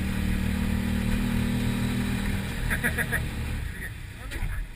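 A 2019 Motoposh Pinoy-6 150 trike engine runs loud and close, its steady drone surging as it is revved, with a few brief higher tones near the end.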